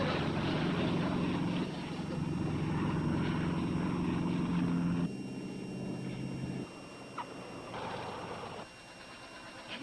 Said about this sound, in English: Look, the plane is coming down.